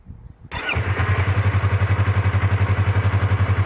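After a brief quiet moment, a Yamaha R25 motorcycle engine cranks and catches, then settles into a loud, close, evenly pulsing idle.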